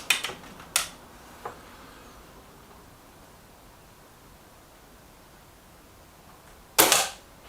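A Reximex Zone air rifle fires sharp, close shots: a few sharp cracks at the start, a long quiet stretch, then a louder crack with a brief tail near the end.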